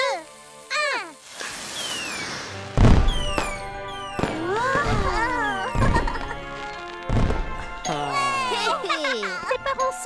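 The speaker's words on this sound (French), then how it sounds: "Après dîner, il y aura encore des feux d'artifice." Cartoon fireworks burst in a children's animated show: a string of sharp bangs, each followed by whistling, sparkling crackles and descending tones, spaced a second or two apart over playful music, with no talking.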